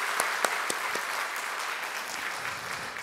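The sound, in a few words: congregation applause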